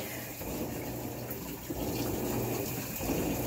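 Hot water gushes steadily into the drum of a Maytag top-loading washing machine with no agitator, a continuous rushing fill at moderate level with a faint low hum beneath.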